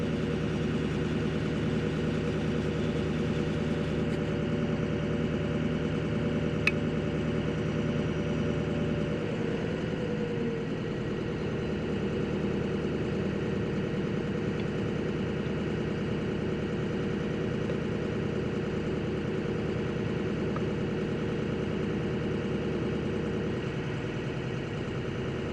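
A Ford 6.0 Powerstroke diesel engine idles steadily for the whole stretch, a constant low rumble and whir with a slight shift in tone partway through and no talking.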